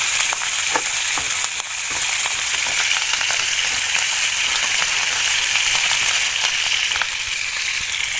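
Onion, ginger, garlic and slit green chillies sizzle loudly and continuously in oil in a pan, with faint scraping from stirring now and then. The frying is close and alone, with no speech.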